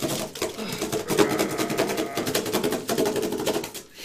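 A makedo serrated saw cuts through thick triple corrugated cardboard, rapid rasping back-and-forth strokes in a quick, close, steady rhythm with no talking.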